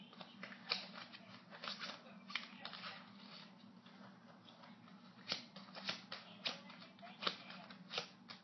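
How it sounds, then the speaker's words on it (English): A deck of playing cards being shuffled, with a steady run of soft riffling flutters and crisp snaps repeating close by, while a voice speaks quietly beneath. "I'm gonna shuffle the decks, shuffle the deck"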